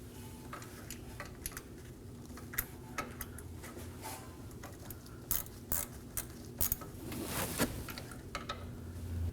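A ratchet snugs a variable valve timing solenoid bolt on a 5.6L V8 engine of a 2017-2024 Nissan Armada, giving a series of rapid clicking bursts with brief pauses, close and moderately quiet.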